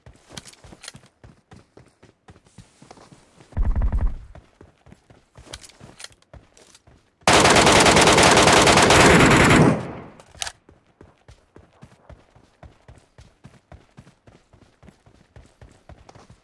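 Gunfire in the video game PUBG Mobile Metro Royale, one short burst and then a long loud sustained spray, set among steady rapid in-game footsteps.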